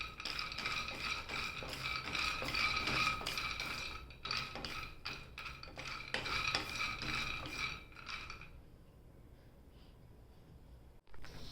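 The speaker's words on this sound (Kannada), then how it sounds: "ಇವಾಗ ನಾವು ಶೇಂಗಾನ ಬಾಣಲೆಯಲ್ಲಿ ಹಾಕಿ ಹುರ್ಕೋಬೇಕು" Peanuts dry-roasting in a pan without oil, stirred with a utensil, give a scraping, rattling patter of nuts against metal in repeated bursts, then quiet down toward the end.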